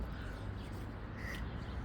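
A crow caws once near a metal art sculpture outdoors, a brief mid-loud call rising over steady wind or ambient rumble, with no talking.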